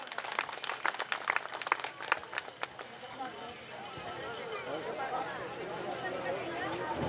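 Audience applause at a Vishwakarma Natya Kala Parishad stage event, a burst of sharp, uneven claps from many people for about three seconds, then fading into a murmur of crowd chatter.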